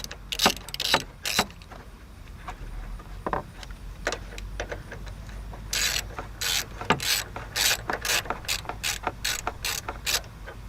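Ratchet with a 10mm socket backing out a bolt on a Chevy Trailblazer, close rapid bursts of pawl clicking in short strokes, louder in a steady run near the end.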